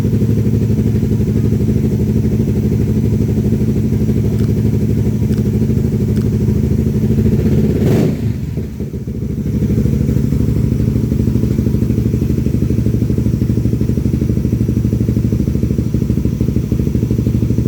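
A Suzuki Raider 150 Fi motorcycle engine idles steadily and close during a test, a constant low throbbing drone with a short dip and thump midway before settling back to the same even idle.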